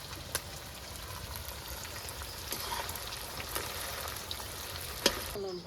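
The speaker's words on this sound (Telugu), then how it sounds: "15 నిమిషాలు ఫ్రై చేస్తా." Mutton sizzling and frying in a pan for pickle, a steady close crackle with occasional sharper pops and stirring sounds, fairly quiet and with no talking.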